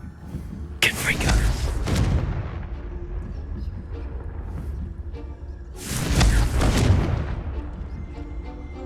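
Confringo blasting spells going off in a fantasy video game: two heavy explosive booms several seconds apart, each with a rumbling tail, over low background game sound.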